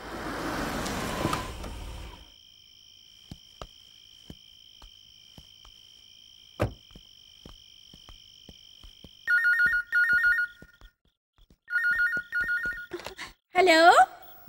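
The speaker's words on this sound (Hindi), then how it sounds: "दीदी तुम्हारा फोन है।" A telephone rings indoors in a film scene, sounding two long bursts of bright electronic trilling close by after a quiet stretch of faint clicks, with a brief voice at the very end.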